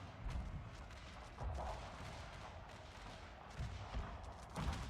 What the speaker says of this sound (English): Currently they are firing over here at this unit of Jaegers.